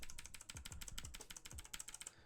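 Rapid typing on a mechanical keyboard with classic Blue switches, a steady patter of sharp clicky keystrokes, close but quiet, with no talking.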